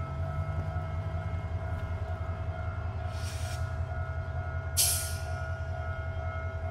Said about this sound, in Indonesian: Keretanya mau dilangsir lagi.